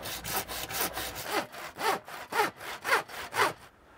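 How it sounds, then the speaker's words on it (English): A standard hand saw cuts through plastic soil pipe in a steady rhythm of about eight or nine rasping push-and-pull strokes, close and clear with no talking, stopping as the cut finishes. "You can cut the pipe with a standard saw, but if you've got a fine tooth saw, then it's a lot easier."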